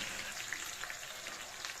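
Garlic and onion frying in a pan, a steady soft hiss of sizzling oil with faint crackles running evenly throughout, fairly quiet and with no talk.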